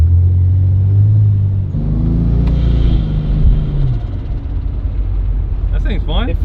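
A drag race car prepped for a drag challenge weekend rumbles loudly at close range, its engine note rising and falling as it pulls away and drives, with voices heard over it.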